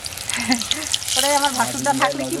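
Chillies frying in hot oil for chilli fritters, a steady close sizzle running beneath voices talking throughout.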